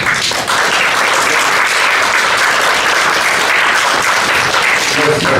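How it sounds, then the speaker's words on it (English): Loud, dense applause from a conference audience at an industrial policy discussion, continuous clapping that fills the whole stretch with no pause. "we give him a big applause"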